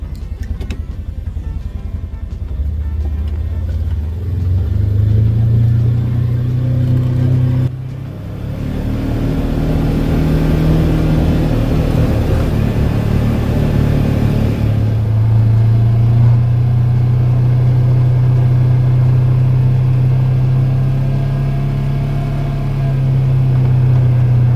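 A Polaris Ranger 1000 side-by-side drives off with a loud, rumbling engine, revving up, dipping briefly, then settling into a steady, rising drone while under way.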